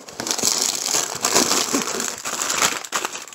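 Continuous crinkling and rustling of plastic, close and fairly loud, with irregular crackles throughout and no voices.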